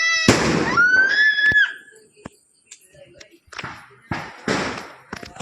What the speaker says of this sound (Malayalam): ഇനി നമുക്ക് വേറെ പൊട്ടിക്കാണ്ടോ പടക്കം